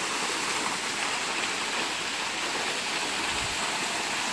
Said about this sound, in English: There's not a lot of water, but there's some water.